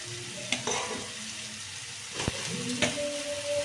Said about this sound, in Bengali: পটলটাও একটু এর সাথে কষিয়ে নেব